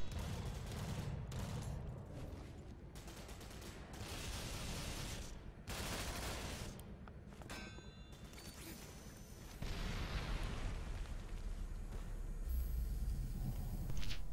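Rifle fire with a muzzle brake in the online shooter game Ghost Recon Online, heard as dense, loud bursts of gunshots in several separate volleys across a battle scene, with booming impacts and a steady background rumble.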